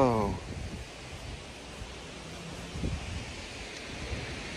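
Wind blows outdoors as a broad, steady rushing noise with gusts swelling and easing near the microphone, with a brief voice at the very start.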